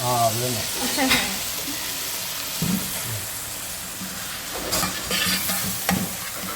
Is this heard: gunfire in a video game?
no